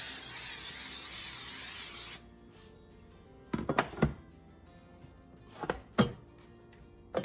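Cooking spray hisses onto a baking pan in one steady burst of about two seconds, loud and close. Afterward, scattered clunks and light knocks sound as the pan and can are handled.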